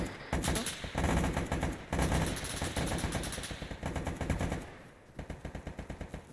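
Automatic gunfire in the military shooter Arma 3: rapid loud bursts of machine-gun fire crackle continuously, pause briefly, then resume as a clipped rhythmic string of individual shots, without speech.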